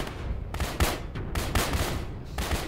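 Heavy automatic gunfire rolls on in the ARMA game as BTR armoured vehicles shoot at an A-10 jet, with loud bursts and blasts crowding together throughout without a break.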